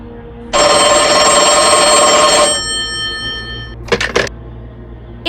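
A telephone bell rings loudly and continuously for about two seconds, then a softer tone lingers, followed by a couple of brief clattering knocks like a handset being picked up.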